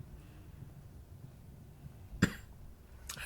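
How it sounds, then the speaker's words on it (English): A single sharp cough from an adult with a lingering cough, caught close and loud against a quiet room background, followed by a fainter burst of noise about a second later. "I'm still having a little cough from our child bringing home the plague."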